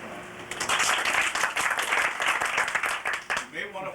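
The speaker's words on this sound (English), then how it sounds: "You may want to hold your applause." Audience applause at a Libertarian Party state convention in Kentucky, a burst of clapping rising quickly and sustained for several seconds, with a speaker's voice over it.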